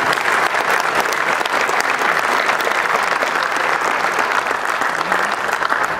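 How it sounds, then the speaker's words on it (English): Audience in a hall applauding at a Mobile Beat Hall of Fame induction in Las Vegas, with dense, steady clapping that holds evenly throughout. "Give them a round of applause."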